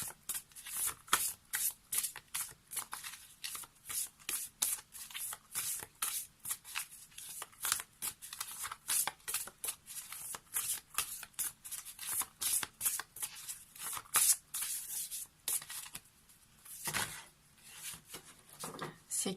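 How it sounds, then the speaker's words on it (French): Oversized Lenormand cards are shuffled by hand, giving repeated soft riffling and sliding bursts in an irregular rhythm, close and fairly quiet, with no voice. "Ces cartes sont vraiment très très grandes. Alors c'est pas évident à manipuler."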